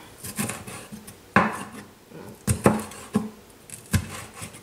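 Knife chopping bell pepper into small pieces on a wooden cutting board for chimichurri, several sharp close thuds spaced irregularly, with softer scraping between them.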